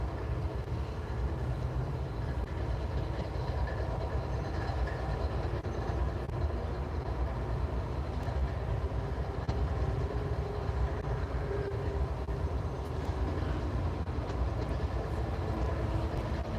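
CSX freight train passes trackside in Dalton during a storm, giving a steady, loud rumble and rolling clatter of railcars that continues without a break throughout.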